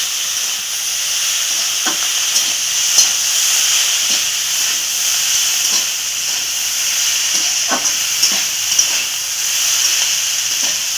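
Vegetables sizzle in a pan as a small spoonful of turmeric is stirred in, a steady loud hiss of frying broken by occasional soft clicks and scrapes of the spoon.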